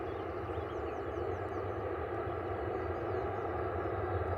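Airliner coming in from Punta Cana on approach to Manchester Airport, a steady broad jet engine roar at moderate distance that holds even and unbroken throughout.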